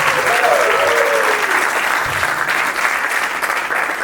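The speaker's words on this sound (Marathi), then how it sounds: "चला एकदा तिन्ही जजेससाठी जोरदार टाळ्या guys." A studio audience at a Marathi talent show breaks into loud, sustained applause for the judges, thick continuous clapping close up throughout, with a brief whistle-like tone rising over it early on.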